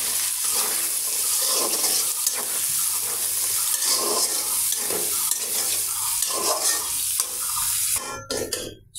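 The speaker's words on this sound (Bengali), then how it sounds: "এখন আমি দিয়ে দেবো ছোলাগুলো।" Chickpeas and boiled potato go into a sizzling fried spice paste, giving a loud, steady frying hiss with stirring scrapes throughout before it cuts off abruptly near the end.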